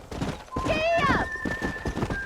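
Horse hooves thud in quick, uneven beats during a gallop in the Red Dead video game, mixed with a whinny and overlapped by speech.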